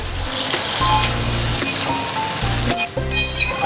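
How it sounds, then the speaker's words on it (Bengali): Tender young ridge gourd slices frying in a pan, a loud close sizzle with occasional clinks and stirring scrapes, no one talking. "এবার ঝিঙেটাকে একটু ভেজে নিই।"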